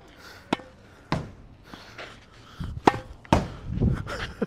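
A tennis ball smacks against a practice wall at a park in Marugame, Kagawa, giving about six sharp, irregularly spaced thwacks of varying loudness with faint background noise between them.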